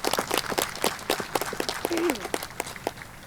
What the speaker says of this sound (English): I want to go ahead and give him a round of applause for all his efforts